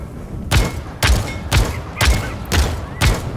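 Six evenly spaced revolver shots in the video game Realm Royale, each a sharp, loud crack with a booming thud as the rounds strike rocks, fired at a steady pace about half a second apart.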